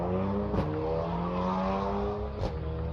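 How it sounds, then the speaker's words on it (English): A VW Golf spins its wheels pulling away from a small December car meet at an army flying museum, a steady loud engine drone with harmonic whine and brief sharp bursts of tyre noise near the start and end. "Bit of wheel spin from the Golf as it leaves"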